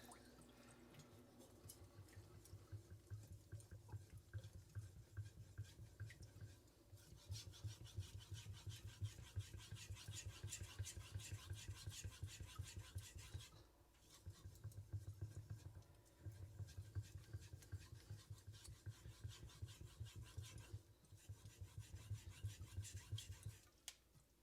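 A kitchen knife blade being sharpened on a Suehiro Gokumyo whetstone, giving a continuous rhythmic scraping and rubbing in long strokes with brief pauses, close up and fairly quiet, with no talking.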